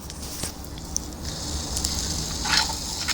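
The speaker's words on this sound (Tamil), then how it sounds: "அடுத்து கொஞ்சமாக சால்ட்டும் சில்லி பவுடரும் ஆட் பண்ணிட்டு இதை லைட்டாக ஃப்ரை பண்ணி எடுத்து வச்சுக்கலாம்" Boiled eggs frying in oil with salt and chilli powder in a pan, a close, steady sizzle with crackling spatters and a brief louder hiss near the end.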